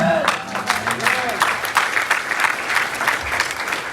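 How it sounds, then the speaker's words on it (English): An audience claps steadily in a dense burst of applause, with a voice speaking over the start. "Don't clap."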